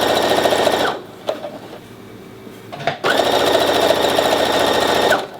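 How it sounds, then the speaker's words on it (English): A sewing machine edge stitching along folded fabric for a shirred top runs in a loud, steady, close whirring hum. It stops for about two seconds with a few small clicks, then starts again at full speed. "And you're just going to edge stitch now."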